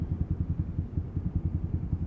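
A Yamaha Sniper 155R motorcycle engine with 41,000 on the odometer runs at idle, a close, low, rhythmic putter pulsing steadily, with no voices.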